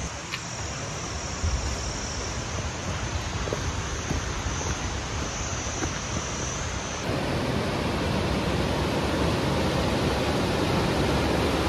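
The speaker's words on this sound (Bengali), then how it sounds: "জলের আওয়াজ পেয়ে আমরা এগিয়ে যাচ্ছি" Steady broadband rush of a mountain stream near Manali flows without pause, loud and close throughout, with the texture shifting slightly partway through.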